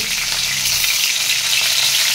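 Steamed capsicums frying in a little oil in a kadai, a steady close, loud sizzle with no speech over it.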